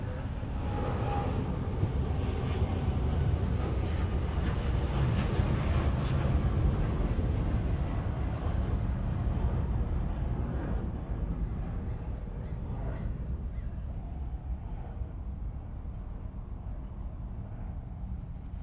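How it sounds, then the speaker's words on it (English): A United Airlines Boeing 787-10 Dreamliner jet departing LAX for Tokyo Haneda gives a steady, deep, broad roar that holds loud for several seconds before easing slightly as it moves away. "That was United Airlines Flight 39 headed to Tokyo Haneda on a 787-10 Dreamliner."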